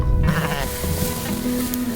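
Sheep bleat on a homestead farm, several wavering calls overlapping with one another, close and loud against steady barnyard noise.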